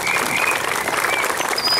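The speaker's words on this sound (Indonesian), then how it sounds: "Untuk itu tepuk tangan untuk kalian semua." Campers at a school camp closing ceremony applauding together, a dense, steady burst of many hands clapping close by, with no pauses.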